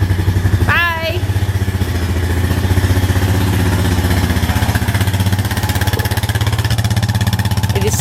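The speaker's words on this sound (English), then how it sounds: "First four-wheeler ride." A four-wheeler's engine runs steadily in the outdoors, a constant mid-pitched drone with a rough clatter, loud and close throughout, with a short voice sound near the start.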